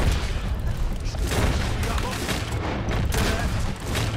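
A dense burst of rapid gunfire from several shooters fills a shootout in Red Dead Redemption 2, with crackling shots overlapping continuously at close range. Some voices can be heard underneath.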